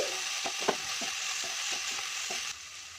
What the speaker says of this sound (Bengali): সব মশলার সঙ্গে আদা ভেজে নিচ্ছি